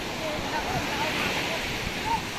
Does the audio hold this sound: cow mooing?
no